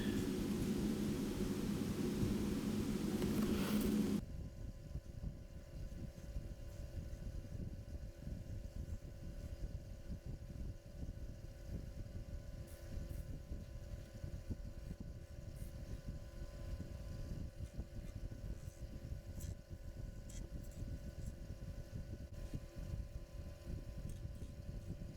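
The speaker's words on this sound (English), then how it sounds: "doing this you don't get chipping out just by doing it gently and carefully. Nice sharp gouge. You don't have any grain to worry about" A wood lathe spins an acrylic bead while a sharp spindle gouge cuts it, a continuous low motor rumble with faint steady scraping, quieter after a brief louder opening.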